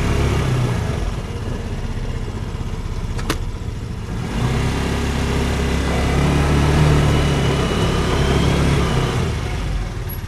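Ford Ranger pickup engine running as the truck is moved a short distance, a steady low idle rumble throughout with a brief sharp click early on and a slight rise in revs midway.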